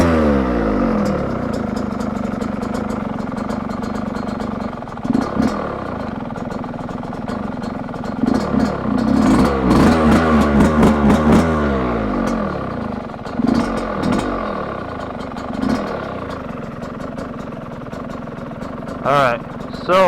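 A 2025 Yamaha YZ125X two-stroke dirt bike running on premix, its engine idling and blipping with uneven revs throughout, loud and close, with someone talking over it.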